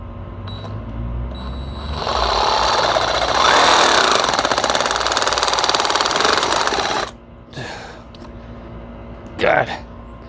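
Bauer 20V cordless reciprocating saw cutting with its stock blade, a loud rasping buzz that runs steadily for about five seconds, then stops, followed by a couple of brief clatters.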